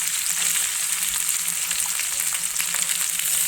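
Tomato and curry leaves frying in a pan for a North Karnataka style potato curry, a steady dense sizzle that holds close and even throughout with faint stirring taps underneath.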